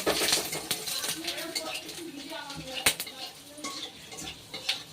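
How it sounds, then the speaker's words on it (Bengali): Four garlic cloves and two dried red chillies fry in hot oil left over from frying hilsa fish, with a soft sizzle under stirring and clinks of a metal utensil against the pan. "রসুন কিন্তু ভাজা হয়ে গেছে"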